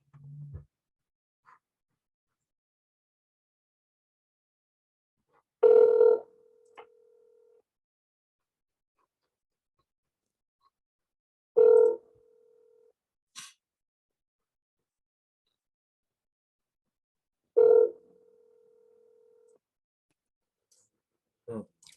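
Outgoing telephone call ringing unanswered: three short ringback bursts spaced roughly six seconds apart, clear and close, with near silence between and no talk.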